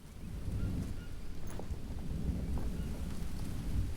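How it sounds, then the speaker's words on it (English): Steady rain with low thunder rumble in the jungle survival game Green Hell, a dense continuous wash of rainfall with a few faint drop ticks, moderately quiet throughout with no talking. "Am I hearing rain in the game?"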